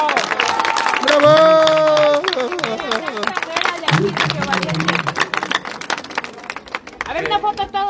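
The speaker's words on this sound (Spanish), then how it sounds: "Un aplauso para" A crowd claps and cheers for the champions of a children's race, with a voice briefly rising over the start and busy, uneven applause and chatter continuing close by.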